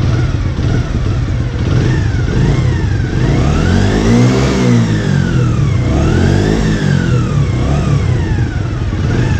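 A Honda Dream 50 motorcycle engine runs loud and close after a cleanup, revving up and down in repeated swells over a steady mechanical buzz, with no talk.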